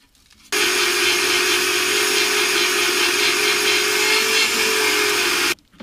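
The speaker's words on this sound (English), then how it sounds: "I think I'm going to get on with cutting a bit of the chassis rail up" A power tool cuts through the steel chassis rail of a 1970 VW camper bus, giving a loud, continuous whining grind of about five seconds that starts and stops abruptly, with no talking.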